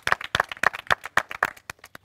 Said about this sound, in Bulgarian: Аплодисменти за Силвия.